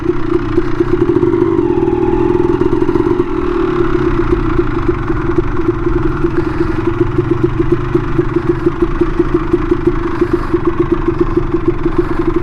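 A Honda CR250 two-stroke dirt bike engine idles steadily and loud up close, with a continuous throbbing drone and metallic clatter that holds throughout without revving.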